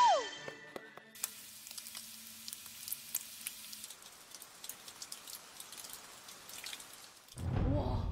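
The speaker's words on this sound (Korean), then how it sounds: "완전 대박 삼겹살 굽는 소리였어요" Pork belly (samgyeopsal) sizzles on a grill, a dense crackling hiss with scattered pops much like rainfall, steady and moderately loud, ending with a louder burst of noise.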